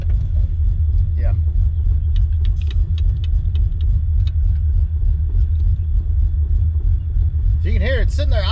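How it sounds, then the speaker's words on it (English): A Fox body Mustang with a 331 stroker V8 idles with a loud, lumpy, low rumble that holds steady throughout, a few light clicks over it, and a voice speaking briefly near the end. "So you can hear it sitting there idling great right now."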